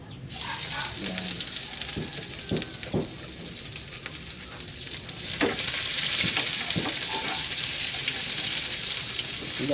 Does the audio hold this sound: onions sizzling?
yes